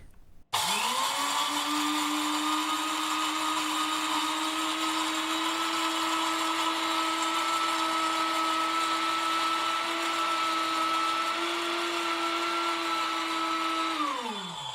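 An HR-02A 650 W blender grinds grain into coarse flour, spinning up to a loud, steady high-pitched whine that holds for about fourteen seconds before starting to wind down.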